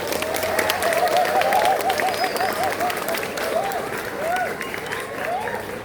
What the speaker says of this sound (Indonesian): Tepuk tangan untuk MAN 2 Bantul.